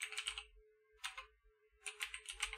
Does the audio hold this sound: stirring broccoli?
no